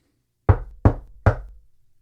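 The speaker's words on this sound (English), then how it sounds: "and knocked on the front door." Three firm knocks on a front door, evenly spaced and close by, each sharp rap followed by a short thud, with silence before and after.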